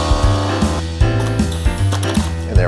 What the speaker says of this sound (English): And when the vacuum sealer is done, it'll decide to seal it.